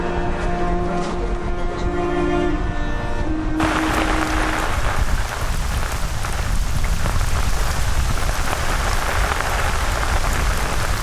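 Heavy monsoon rain pours down steadily in Bangladesh, a dense, continuous hiss of drops hitting surfaces close by, loud and unbroken, with a faint tonal sound fading out at the start.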